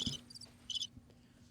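A cricket sound effect added in editing chirps in two short, high, buzzy bursts, clear and close over a quiet background.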